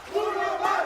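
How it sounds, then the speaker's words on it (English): A crowd chanting in unison at a Valorant esports match between 100 Thieves and KRÜ Esports, a loud, sustained vocal swell from the arena audience that rises again near the end, with no commentary over it. "The chants from the crowd could not be more accurate."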